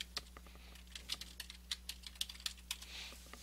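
Fingers tap on a computer keyboard in quick irregular bursts of clicks, quiet and close, over a faint steady electrical hum.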